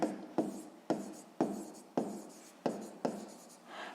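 Pen writing on paper during a sixth-grade maths exercise, a series of about eight short scratchy strokes in a quick uneven rhythm, close and fairly quiet, with no talking.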